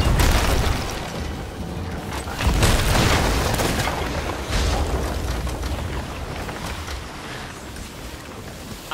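Heavy ship cannon booms roll out in several bursts over wind and sea noise, loud and rumbling, with no talking, in Sea of Thieves.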